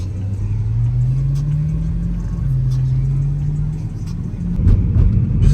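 A BMW M3 accelerating on a road: a close engine tone climbs steadily, dips briefly at a gear change, then rises again as the revs build.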